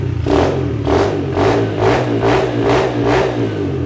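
A 2024 SK 110 Pro mini trail motorcycle's 110 cc engine revved repeatedly, rising and falling in rhythmic bursts over a steady idle, close and loud with no talking.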